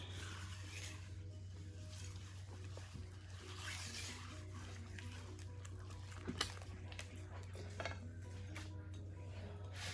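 Peanut butter cookie mixture being stirred with rolled oats, a faint scrape and clink of a utensil against a bowl or pot over a steady low hum, with a couple of slightly louder knocks.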